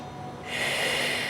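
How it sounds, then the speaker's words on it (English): Steady breath during an obliques-focused exercise workout, a soft close exhale swelling into a longer airy rush partway through. "Inhale and exhale."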